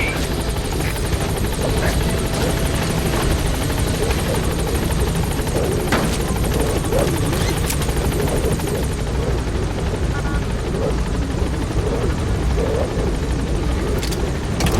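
In Metal Gear Solid V, the Pequod helicopter hovers at the landing zone, its rotor thumping in a loud, steady, close drone that holds throughout, with the pitch easing briefly near the end.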